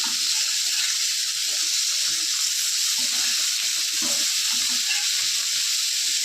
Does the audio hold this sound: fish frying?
yes